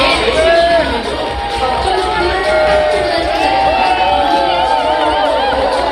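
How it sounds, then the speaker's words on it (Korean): A large crowd cheers and applauds the athletes at the opening ceremony of a provincial sports festival, a dense, loud, continuous roar with whoops and shouts mixed into the clapping. "다시 한번 큰 박수를 부탁드리겠습니다"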